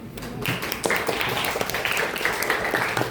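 Applause from an audience for group 5 at a presentation session, a moderate ongoing patter of hand claps lasting a few seconds with a roomy, mid-distance feel and no clear voices over it.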